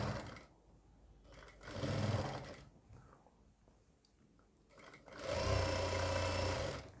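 A sewing machine stitches a seam on a churidar pajami at a half-inch margin, running in a short burst and then a longer one, close by with quiet handling in between.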